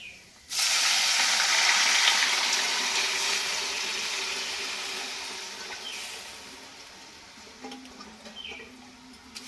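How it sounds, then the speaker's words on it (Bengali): Boiled dal for a bitter Bengali tetor dal is poured into a hot pan, setting off a sudden loud sizzling rush that slowly fades into a quieter bubbling hiss with a few small clicks. "এবারে দিয়ে দিচ্ছি সিদ্ধ করে রাখা ডালটা"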